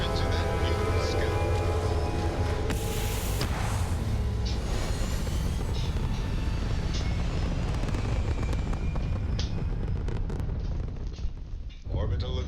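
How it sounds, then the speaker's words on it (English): Spaceship liftoff in the video game Starfield: a loud, sustained roaring rumble, heavy and continuous, with a brief high whooshing burst early on, fading out near the end. "Liftoff initiated, Captain. Time to venture into that beautiful sky."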